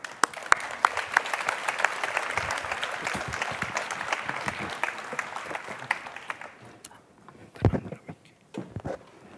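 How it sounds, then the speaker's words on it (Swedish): Warm applause from an audience welcoming guests onto the stage at the closing of the Swedish National Heritage Board's autumn meeting: dense, steady clapping that thins out after about six seconds into a few scattered claps. "Så jag tycker att vi välkomnar väl upp våra gäster på scenen med en varm applåd."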